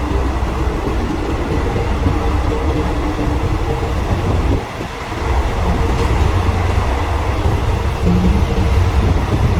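Third-class passenger train rolling through Thailand with all windows open, a loud steady roar of wheels and wind filling the carriage, with a brief dip in the noise midway before the rumble returns.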